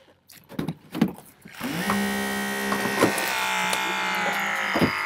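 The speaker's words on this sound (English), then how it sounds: "I'm cutting the B at the roof" Hydraulic rescue cutter shearing through the B pillar at the roof of a car lying on its side during an extrication, metallic clanks and clicks followed by a loud sustained whining strain with creaks and pops.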